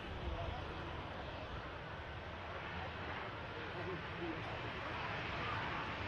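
A Ryanair airliner arriving from Dublin rolls along the runway at Manchester Airport, a steady broadband jet roar held at an even level throughout, heard at a distance with wind.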